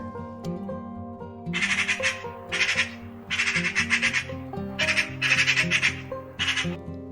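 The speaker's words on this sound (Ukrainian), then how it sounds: "Сорока." Magpie call in a forest setting: several loud, harsh chattering bursts in quick succession, heard over a steady musical background.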